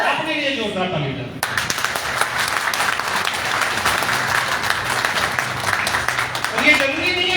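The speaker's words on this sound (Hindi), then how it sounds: "अपने लिए जोरदार ताली बजाएं।" A seminar audience breaks into dense, sustained applause after a short spoken passage, with clapping filling the room for several seconds before a voice returns near the end.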